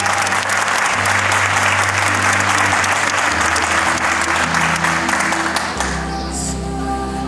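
Loud, sustained applause from an audience at a school graduation ceremony honoring the graduating students, with steady music playing beneath it and the clapping easing toward the end.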